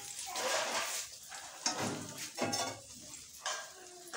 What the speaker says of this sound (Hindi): तड़का डाल देंगे इस तरह